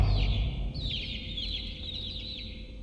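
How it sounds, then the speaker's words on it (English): Chickens in the video game Garten of Ban Ban 2 cluck in a busy stream of short, bright, repeated calls that are fairly loud and close, over a low background rumble. "Now, I don't know if these chickens hurt you."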